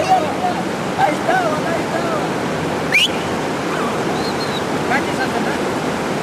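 A river rushes steadily beneath a bridge, a broad constant roar of flowing water with people in the middle of the stream, and faint voices and shouts drift over the noise.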